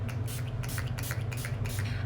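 All-nighter makeup setting spray is misted onto a face in a series of quick, close spritzes, a rapid run of short hissing bursts with no talking.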